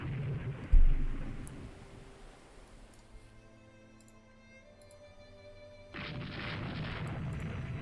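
In the naval strategy game Rule The Waves 2, a torpedo strikes a battle cruiser with a single deep, muffled boom, followed by a quiet low rumble and faint ticking, then a steady broad noise rising near the end.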